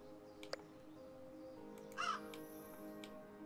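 Crows cawing in the cozy video game Pan'orama, a couple of faint, brief harsh calls over a quiet steady game backdrop, one call standing out more clearly midway.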